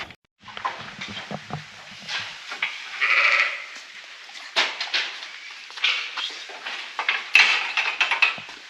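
Lambs being dosed with a mineral drench on a farm bleat in short, repeated calls at close range, mixed with scattered handling clatter and shuffling.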